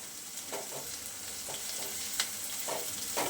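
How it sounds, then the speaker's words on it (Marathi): Crushed ginger and garlic paste fries with onion in a hot tempering for a drumstick and mixed dal curry, a soft continuous sizzle broken by a few quick stirring scrapes. "त्याच्यामध्ये लगेचच आपल्याला घालायचं आहे आलं आणि लसणीचा ठेचा किंवा पेस्ट घालायचे"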